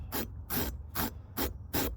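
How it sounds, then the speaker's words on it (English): A Dremel rotary barrel sander grinds against soft foam in five evenly spaced rasping bursts, a rhythmic scratchy scrubbing close by. "it does a really good job of sanding down your surface"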